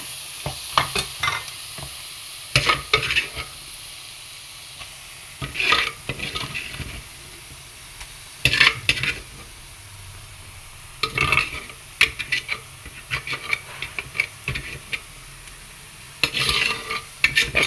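Garlic and gooseberries frying in a pan while being stirred, with repeated scraping and clinking strokes of a spoon against the pan over a low sizzle, close and fairly loud, coming in irregular bursts.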